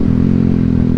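Yamaha WR155 motorcycle ridden at night after a filter change, its engine a loud, steady, close droning hum with rough wind and road rumble throughout this short stretch, no voices.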